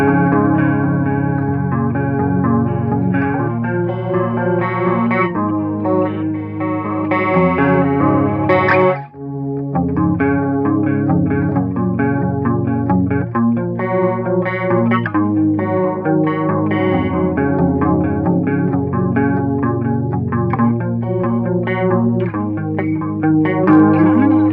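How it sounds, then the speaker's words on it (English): Clean electric guitar played on the neck pickup with chorus effect and no distortion, a shimmering, sustained riff running steadily throughout with one brief pause near the middle, loud and alone. "We're going to get our distortion off and put some chorus on actually."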